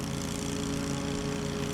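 A big lawn mower cutting dead grass on a lawn renovation, its engine a steady, close, droning hum with no breaks or voices.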